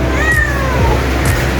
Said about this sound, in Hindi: कितनी प्यारी बिल्ली है।